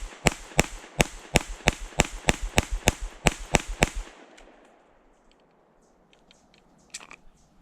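CZ P-10C Ported pistol fires a rapid string of about thirteen sharp, loud shots at an even cadence, then stops, leaving faint ringing and light clatter.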